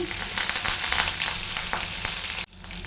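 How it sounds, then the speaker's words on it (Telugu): Finely chopped cabbage lands in hot oil with cumin and mustard seeds for vegetable poha, setting off a dense, loud sizzle with light stirring that cuts off sharply near the end. "ఇందులోనే సన్నగా తరిగి పెట్టుకున్న క్యాబేజీ వేస్తున్నాను"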